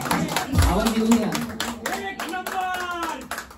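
An audience claps along at a Marathi devotional gathering with aarti singing, the hand claps blending with a voice and tonal music that run over them through the whole stretch.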